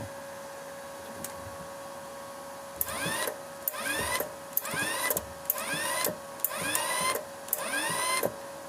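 A repaired Edon Smartmig-325 MIG welding machine runs, with a constant electrical hum under six or seven loud whirring bursts that rise in pitch, each starting and stopping abruptly in a regular rhythm.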